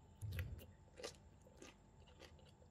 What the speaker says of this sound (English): Let's eat the som tam thai first.